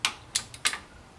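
A beam torque wrench clicks in several sharp, crisp ticks while valve cover bolts on a Nissan H20 engine are tightened, irregularly spaced and close, with no talk.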